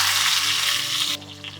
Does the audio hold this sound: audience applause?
no